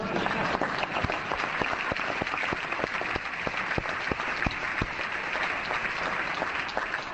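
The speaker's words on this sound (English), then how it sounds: "you can give me applause" Lawmakers in the California state assembly applaud during a governor's State of the State address, a steady, even wash of many hands clapping with occasional sharp claps standing out.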